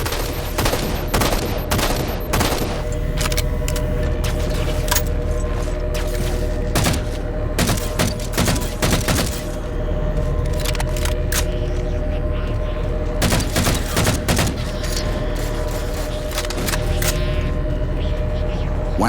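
Heavy gunfire in Halo 4 rattles through the whole stretch, dense bursts and booming impacts layered over a constant low engine drone, loud and close.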